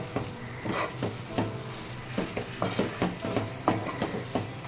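Onion and tomato with chili powder, turmeric and salt sizzle and spit in a pan up close, with intermittent scraping stirs and clicks over the steady frying hiss.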